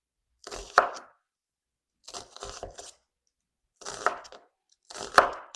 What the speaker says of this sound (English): Next, we slice one medium-sized onion. Make these very fine